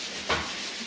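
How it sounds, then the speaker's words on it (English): Brief scrape of 600 grit sandpaper rubbed across a clear-coated tread of custom metal floating stairs, a single quick pass near the mic against a quiet background. "sanding it down, making them really, really slick"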